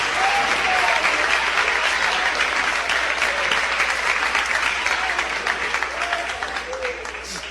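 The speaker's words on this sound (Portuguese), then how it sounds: "Podem glorificar o Senhor com as palmas." A church congregation claps in praise during a service, sustained loud applause from many hands that gradually thins toward the end, with faint voices underneath.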